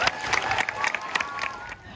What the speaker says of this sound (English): Clap it up for her.